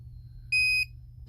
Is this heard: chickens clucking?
no